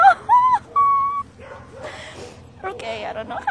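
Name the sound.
dogs barking and whimpering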